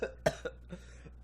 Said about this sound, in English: That signature coughing.